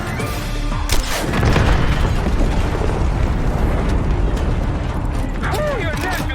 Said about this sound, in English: Fire an RPG at it!